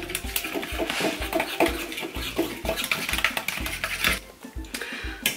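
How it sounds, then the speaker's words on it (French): Soap mixture being stirred in a container, a steady run of scraping, clinking strokes close by, repeating quickly with brief pauses and no talking. "Bien mélanger le tout."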